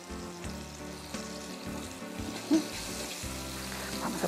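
Onion with a bay leaf sautéing in a pan, a soft steady sizzle with a brief clatter partway through, close and moderately quiet with no voices.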